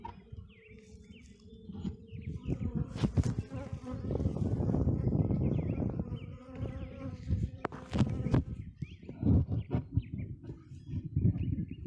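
Honey bees swarm and buzz steadily around an open hive during a spring inspection of a six-frame box, a dense close-up drone with a few sharper knocks and rustles of handling.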